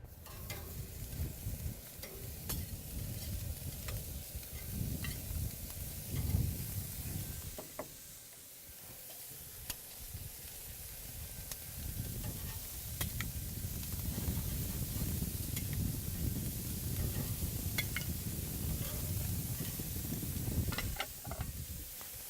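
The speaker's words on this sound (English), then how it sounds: "So we have our burgers, they're nice and cold. Pop them onto the grill." Cold burgers sizzle on an outdoor grill at a cottage, giving a steady, fairly soft hiss with crackling that dips briefly partway through and then keeps going.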